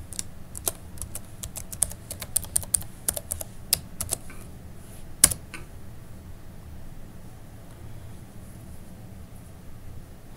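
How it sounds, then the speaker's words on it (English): Fast bursts of keystrokes on a computer keyboard enter a username and password for a NetBackup Appliance 5230 web portal, crisp clicks for about five seconds followed by a quiet room hum. "So let me log in by putting my username and password."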